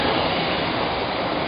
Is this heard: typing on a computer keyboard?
no